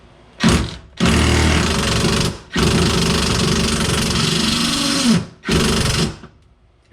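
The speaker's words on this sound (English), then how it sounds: "These are just chrome impact sockets," A pneumatic impact wrench with a chrome impact socket hammers on a BMW parts car in several loud, close bursts of one to three seconds each, separated by brief pauses, with no voices.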